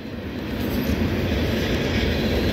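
A long freight train rolls past at the National Museum of Transportation, a steady loud rumble of wheels and cars with no break, close by and continuous.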